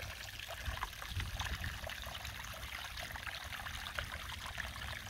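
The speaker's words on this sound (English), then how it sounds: "Let's zoom in on the waterfall from this angle" Small garden pond waterfall trickling steadily over rock, a continuous close splashing and bubbling wash with no voices, outdoors with a light breeze.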